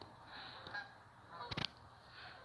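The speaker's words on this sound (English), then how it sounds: "Look at the Canadian geese." Distant Canada geese honk faintly in the morning, with a short burst of several quick honks in the middle against quiet outdoor background noise.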